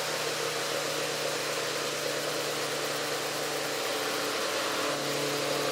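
A vintage Sunbeam knockoff oscillating desk fan runs steadily on medium speed, giving a continuous motor hum with a faint rattle, close and alone with no talk.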